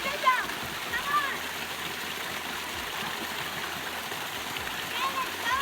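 A waterfall in Wales rushes with a steady, broadband roar, close and continuous, with some splashing and faint background voices.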